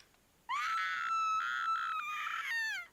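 Ghost children in the horror video game Corpse Party shriek together in a sustained, loud high-pitched scream lasting about two seconds, with no talking over it.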